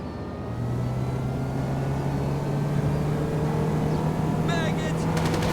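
In GTA 5, the cheap Chameleon hybrid car switches from silent electric drive to its combustion engine, giving a steady droning hum that rises gently in pitch as it accelerates, with brief chirping sounds near the end.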